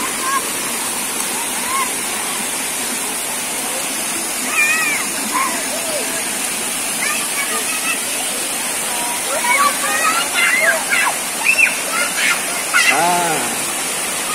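River water flows steadily at the Sungai Mudal eco-tourism area in Kulonprogo, Yogyakarta, a constant broadband rush with children's voices and chatter rising over it in the second half.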